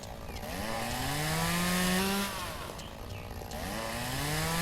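A chainsaw trims bushes in the Lumberjack's Dynasty video game, its engine revving up and down in rising whines with short pauses between cuts, fairly quiet and steady.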